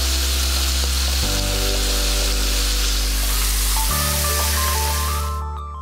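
Steaks searing in a hot pan for a steak and beer pie, a steady loud sizzle and crackle of frying meat that runs throughout, with a constant hum underneath.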